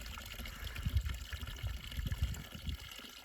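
A slow, faint trickle of water runs into a small artificial field pond, a soft continuous gurgle and splash with low rumbling underneath.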